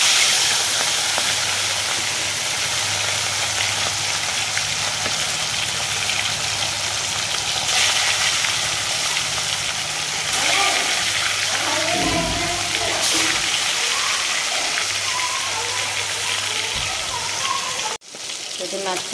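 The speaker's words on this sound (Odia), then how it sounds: "ମାଛ ଛଣା ବି ଚାଲିଛି ମୋର।" Fish coated in salt and turmeric frying in hot oil in a kadai gives a steady, close hiss and crackle throughout. A low background hum runs beneath it, and a brief clatter comes near the end.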